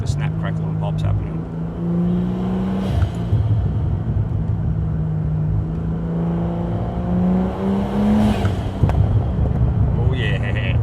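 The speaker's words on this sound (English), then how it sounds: "Alright, let's get the snap, crackle and pops happening." A 700 HP Ford G6ET sedan with a Barra engine and stage 1 billet cams revs with snap, crackle and pop from the exhaust: a loud, steady rumble that swells and rises in pitch, with sharp pops near the end.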